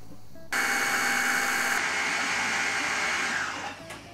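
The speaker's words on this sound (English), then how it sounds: "And now we are ready to mix everything." A blender whirs through spinach, nutmeg, parmesan and olive oil in one steady, loud burst of about three seconds, then winds down and stops.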